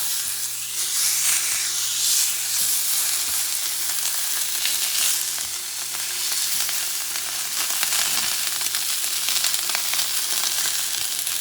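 Veal chop searing in a frying pan with extra virgin olive oil, a loud continuous hissing sizzle that holds steady throughout, close and without talk.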